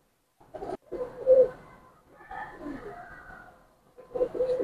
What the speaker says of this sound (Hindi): माशाल्लाह से टैडी कबूतर है